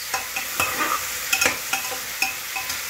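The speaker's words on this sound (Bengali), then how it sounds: "একটু লঙ্কাটা নেড়ে নেই" Chili powder and spices frying in a pan over lowered gas, steady sizzle broken by several quick scraping stirs of a spoon, close up, no voices.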